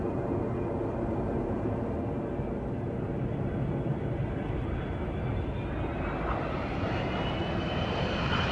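An Airbus A320 airliner on an airport runway roars with a loud, steady engine drone that holds constant and slowly rises in pitch near the end, with no voices.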